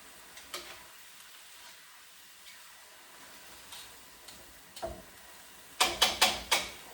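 Stir frying of cabbage and beef as green onions go in: a quiet background sizzle with a few soft knocks, then a short burst of four sharp, close stirring and pan-tossing strokes at the end.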